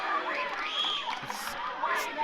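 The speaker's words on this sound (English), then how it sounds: "Audience is getting even louder." Audience cheers at a staff versus scoutmasters volleyball game, a steady crowd roar with shouts and whoops over an ongoing hubbub, moderately loud and continuous, with a voice talking over it.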